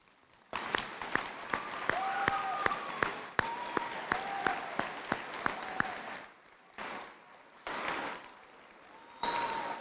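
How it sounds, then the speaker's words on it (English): A graduation ceremony audience applauds the graduates' families, a sustained round of clapping that runs for several seconds, eases off and briefly swells again. "please applaud them"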